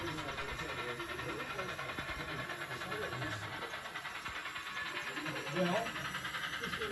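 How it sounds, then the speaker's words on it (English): A K-28 model steam locomotive with a PFM sound unit pulls a narrow gauge passenger train around a layout loop, a steady rail rumble and hiss running continuously under background chatter, with no clear chuffs standing out. "K-28 now leads a passenger train around the Ophir Loop."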